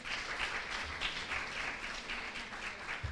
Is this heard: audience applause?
yes